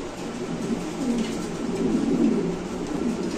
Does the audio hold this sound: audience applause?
no